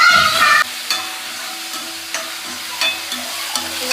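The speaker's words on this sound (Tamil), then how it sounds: "கொஞ்சமாக எண்ணெய் ஊற்றி சீரகம் போட்டு வெங்காயம் போட்டு வதக்கிட்டுருக்கேன்." Onions and cumin seeds frying in a little oil, a close, steady sizzle broken by periodic stirring scrapes, heard alone.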